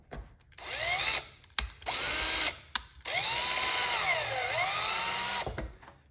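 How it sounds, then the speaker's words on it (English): A power drill drives screws to thread holes during assembly of a 35% Extreme Flight Extra NG model airplane, in several short close bursts whose whine rises and falls in pitch as the motor speeds up and slows, with pauses between. "basically what I'm doing is I'm threading the holes where the screws are going to be"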